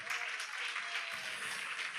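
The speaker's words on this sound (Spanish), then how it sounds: "¿Cuánto le dan palmas de alabanza al Señor?" A church congregation claps in praise, a dense steady round of applause at moderate distance that fills the whole moment, with some voices mixed in.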